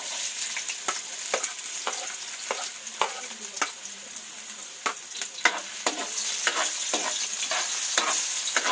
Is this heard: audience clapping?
no